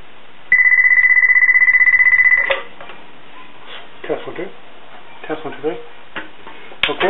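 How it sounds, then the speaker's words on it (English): A DNVT military field telephone rings on a point-to-point call over Cat5 cable, a loud rapid electronic warble lasting about two seconds before people talk. "I notice there's a little bit of a delay in the ring from the time I picked the phone up to the other side ring"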